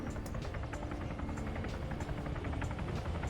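A Hellcat helicopter in the video game Modern Warfare 3 lifts off with a steady, loud rotor chop and a whirring engine buzz that hold evenly throughout, with no talking.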